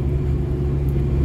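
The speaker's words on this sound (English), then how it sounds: "I'm cruising right now 55 miles an hour, maybe 1700 RPM or so in fifth gear" Steady low engine drone of a 1996 Dodge Viper GTS 650R cruising in fifth gear at about 55 mph and 1700 RPM, heard from inside the cabin with the windows up, a constant rumble with no talk.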